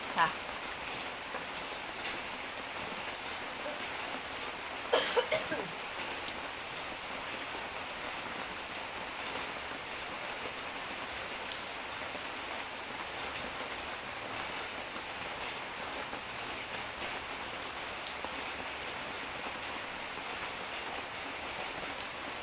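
Rain patters steadily for over twenty seconds in a constant, moderately loud hiss, with a brief knock or clatter near the start and otherwise no distinct sounds on top.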